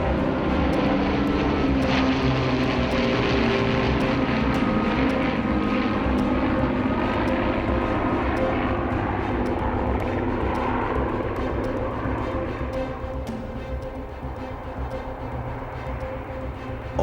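The B-17 bomber Sally B flying overhead, a loud, continuous propeller-engine drone that holds steady and then fades slightly toward the end, with no talking.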